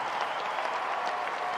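Tennis crowd at Louis Armstrong Stadium during the US Open roaring and applauding steadily, a dense, continuous wash of cheering and clapping with no break.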